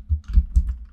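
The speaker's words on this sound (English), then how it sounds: "So you can type in caps." Typing on a computer keyboard while designing a harvest and Thanksgiving flyer: four or five quick, close, dull keystrokes in about a second, with nothing else heard.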